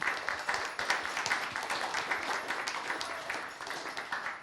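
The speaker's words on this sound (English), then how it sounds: "Give them a round of applause" Audience members at a mental health town hall give the speakers a round of applause, a continuous spread of clapping from a moderately sized crowd, slowly tapering toward the end.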